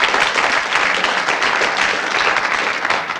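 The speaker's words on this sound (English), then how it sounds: "A round of applause." A 1983 television quiz show studio audience gives a full, dense burst of applause, an even wash of clapping heard alone.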